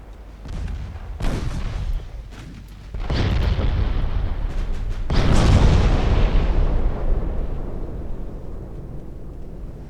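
Naval gunfire in the game Ultimate Admirals: Dreadnoughts: several heavy booming blasts in quick succession, loud and rumbling, with a long decaying roar trailing after the last big salvo.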